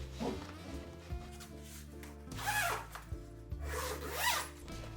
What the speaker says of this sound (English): There is a zipper on the top and an additional side zipper for easy access.